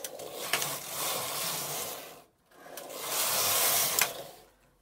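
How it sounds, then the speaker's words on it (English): A Silver Reed knitting machine carriage, a lace carriage, is pushed across the needle bed in two steady passes with a brief pause between them, giving a sustained mechanical rubbing and whirring at close range. "I need to make at least one, if not two, passes of the carriage to read the pattern into the memory drums at the back"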